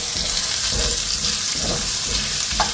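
Chopped onions sizzle in hot oil in a pan at a Sunday home cooking session, a steady bright frying hiss with occasional stirring scrapes and clinks, close and continuous, with no talking.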